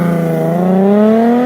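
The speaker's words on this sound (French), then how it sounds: "vous avez aussi le V6 Busso" An Alfa Romeo GTV with the V6 Busso engine revs up steadily, its loud, smooth tone rising in pitch over a second and a half, close by and with no talk.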